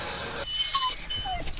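Young puppies whimper and whine at sundown, thin high cries rising and falling in two or three short bursts, fairly close with no talking.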